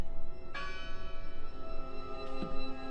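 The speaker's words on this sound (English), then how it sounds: "Listen! The bell!" A church bell rings in the horror video game Draugen, with one clear resonant strike that rings out and decays, and a second fainter strike about two seconds later, set against a low ambient drone.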